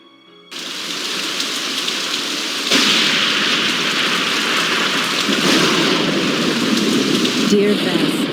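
Heavy thunderstorm rain in the Nancy Drew game Message in a Haunted Mansion, set in stormy San Francisco: a steady broadband downpour that swells louder partway through and keeps pouring, with a brief faint tone near the end.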